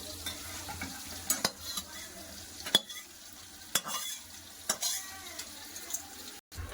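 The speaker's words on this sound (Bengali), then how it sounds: "এবার এই আলু ভেজে নেবো" Potatoes fry in oil with a steady sizzle, broken by occasional sharp clinks and scrapes of a utensil against the pan.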